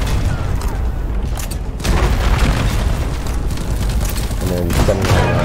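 An acid grenade detonates in Deep Rock Galactic, a loud booming blast with a sustained rumbling roar and crackle, mixed with game noise and voices talking.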